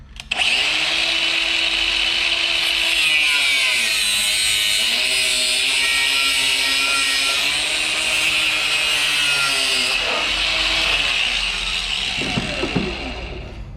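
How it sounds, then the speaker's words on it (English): An angle grinder cuts through a turbo line on a VY V6 Ecojet build, a loud, continuous high-pitched whine with slight pitch wobbles under load, tapering off at the end. "I'll just use a grinder."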